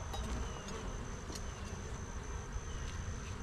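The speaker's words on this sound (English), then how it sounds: "we got a lot of bees, a lot of calm bees here" A dense, steady buzz of many calm honey bees swirls around an open hive during an October inspection, with soft scattered clicks and rustles and no talking.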